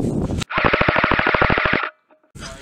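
An airsoft gun fires a rapid burst of about fifteen sharp, evenly spaced shots at an outdoor paintball field, loud and close, with brief talk before and after.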